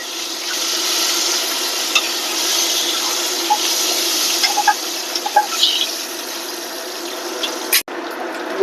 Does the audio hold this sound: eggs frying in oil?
yes